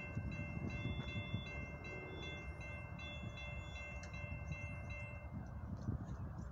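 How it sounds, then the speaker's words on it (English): A long northbound CSX coal train rumbles past on track one at a steady, moderate level, with a faint horn tone riding over the continuous roar. "I can hear the roar of that train, baby."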